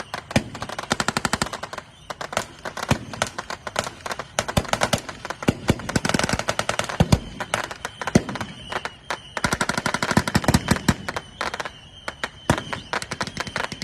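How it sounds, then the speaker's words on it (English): Rapid, dense gunfire from M1 Garand rifles and a Tommy gun during an outdoor WWII battle reenactment, with overlapping cracks and bursts running almost continuously throughout. "as Allied forces continue to lay covering fire, they will continue to advance against the entrenched Axis forces"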